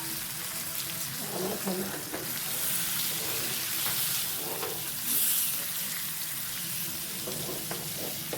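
A whole chilabi fish fries in a pan, village style, with a continuous hissing sizzle and occasional pops and scrapes as it cooks. The sizzle swells briefly partway through, close and steady throughout, with no voices.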